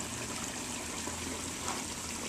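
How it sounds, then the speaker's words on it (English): A backyard pond waterfall trickles and splashes in a continuous, soft, even wash of water with no voices present. "here's our change to the waterfall, only this is a daytime shot"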